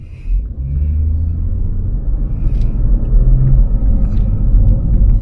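A BMW M5 rumbles steadily nearby, its deep engine note holding a low, continuous drone that swells slightly toward the end as it drives past.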